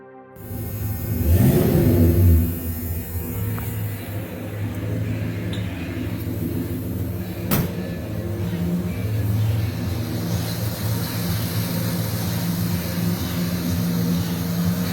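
A 1971 Ford Torino GT Cobra's V8 engine is revved once sharply near the start, then settles into a steady, rumbling idle that carries on loud and close without any talk.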